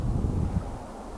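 Strong wind at a spring campsite buffets the microphone, producing a steady, close low rumble with rustling throughout a brief moment.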